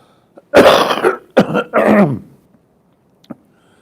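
Three harsh coughs in close succession, loud and near, followed by a short quiet stretch and one faint click.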